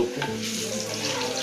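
Tofu and crackers fry in hot oil at a food stall, a steady close sizzle with stirring in the pan and no talk.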